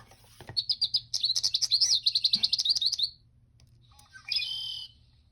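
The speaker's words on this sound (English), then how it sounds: "Red-winged blackbird." A red-winged blackbird gives a rapid, high trilling song of repeated chirps, then after a pause a short, harsh buzzy call, heard fairly close with no talking.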